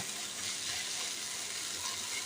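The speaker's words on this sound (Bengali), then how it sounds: "এখানে আমি আরও কিছুক্ষণ ভাজা ভাজা করে নামিয়ে নেব" Spinach with sesame seeds frying in a pan, a steady close hiss and sizzle running evenly throughout with no talking.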